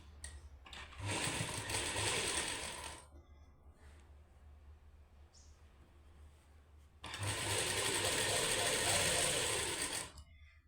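A sewing machine stitches a seam joining lace to shirt fabric for a suit's side slits, running in two steady bursts of about three seconds each with a quiet pause between, close and fairly loud with no talk.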